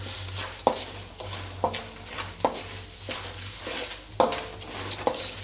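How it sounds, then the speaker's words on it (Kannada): A spoon stirs and scrapes churumuri, puffed rice mixed with salt and chilli powder, in a pan, giving soft repeated scraping strokes and light clinks over a low steady hum, fairly quiet and with no talking. "ಇವಾಗ ಇದನ್ನ ಚೆನ್ನಾಗಿ ಮಿಕ್ಸ್ ಮಾಡ್ಕೊಳ್ತೀನಿ"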